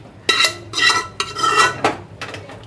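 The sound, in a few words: lentils added to a pot and stirred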